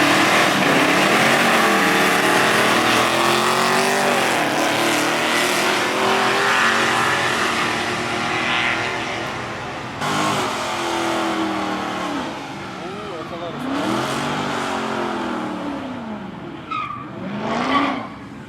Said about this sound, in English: We got Sergio's car going on again.